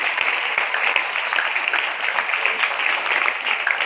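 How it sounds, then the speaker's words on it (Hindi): Church congregation clapping together in applause during a New Year service, a dense steady patter of many hands filling the room without pause, with no voices standing out. "तालियां बजाए जरा इस ब्लेसिंग के लिए।"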